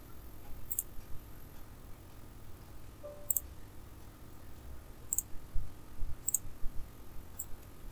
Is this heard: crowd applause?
no